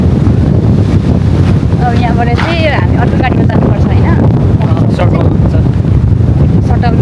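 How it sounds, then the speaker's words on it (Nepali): Strong wind buffets the microphone at Seven Falls as a steady low roar throughout, with people talking over it. "कत्रो हावा चलेको आमा।"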